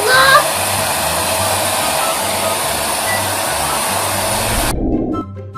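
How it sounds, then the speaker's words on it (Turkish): Hair dryer blowing on a plush toy, a loud, steady whooshing drone that runs continuously and then cuts off near the end. "Evet, saç kurutma makinemiz de hazırlar. Açık mı ya?"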